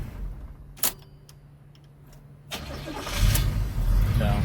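A warm 1968 Chevy El Camino with a small-block V8 restarts hot. A brief cranking click comes first, then the engine catches and settles into a loud, steady rumble close by.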